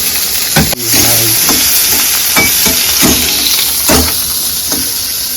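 Cauliflower pieces fry in hot oil, giving a loud, steady sizzle with bubbling crackle and a few sharper pops or stirring knocks throughout, with no one talking.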